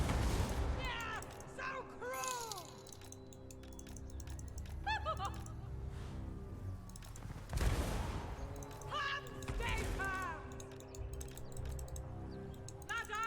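Rapid bursts of video game gunfire aimed at the boss Cylostra Direfin, fairly quiet, mixed with clicking and chirpy game effects, with a voice talking over parts of it.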